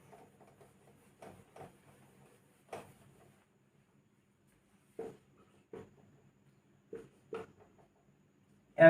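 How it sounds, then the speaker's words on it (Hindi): Chalk or marker scratches on a board in short, sparse bursts separated by quiet gaps, close and fairly soft, with brief erasing rubs among the strokes and no talking. "यहाँ मिटा के लिखते हैं"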